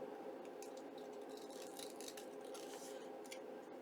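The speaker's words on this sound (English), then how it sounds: "Grabbing my scissors and trimming." Quiet snipping of scissors cutting paper, a series of small crisp clicks over a steady low hum.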